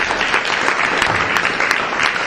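A church congregation claps and cheers for the Lord, dense steady applause filling the whole moment at close, loud level.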